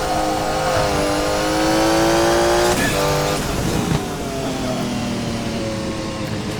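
Porsche 956 Group C race car in a racing game, a loud close engine roar climbing in pitch, then a sharp gear change and a lower, steadier drone, with no talk.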